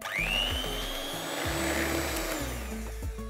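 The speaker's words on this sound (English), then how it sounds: "Then I'm just gonna whisk everything together." An electric mixer whisks eggs, custard sugar and salt in a bowl, a steady close whirring hum with the motor pitch shifting in stepped jumps as the speed changes.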